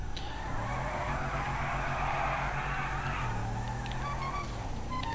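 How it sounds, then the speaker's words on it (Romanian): A heavy Dubsta 6x6 six-wheeled truck in the video game GTA V skids, giving a sustained tire squeal over a droning engine for about five seconds without pause. "Are o greutate foarte mare și derapează foarte mult aici în suspensiile"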